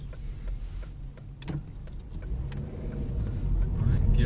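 A manual car drives on a main road, its engine note low and gradually rising under a faint rhythmic ticking, with no clear gear change audible in the short stretch.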